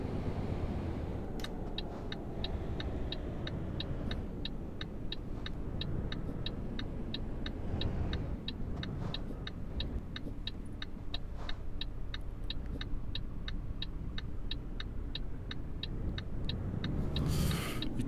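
A truck in Euro Truck Simulator cruising steadily along a road, a continuous low engine and road rumble with a regular ticking indicator running through most of the stretch.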